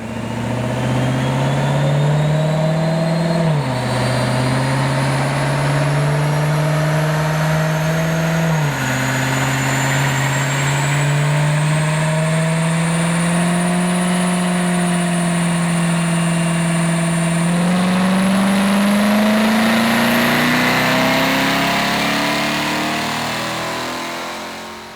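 A car engine runs at wide open throttle on a performance shop's dyno. It sounds loud and continuous, its pitch climbing steadily through several gears with brief dips at each shift, then easing off at the end.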